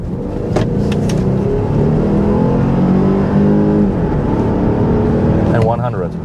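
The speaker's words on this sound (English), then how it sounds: "We'll hit the gas pedal, and this is like the most, I would say, the most fun part, because we have two engines combined" A 2021 Volvo XC60 T6 Recharge hybrid accelerates hard with its combustion and electric engines working together. The engine note climbs through rising gear sweeps, loud and steady from inside the cabin, with someone talking over it.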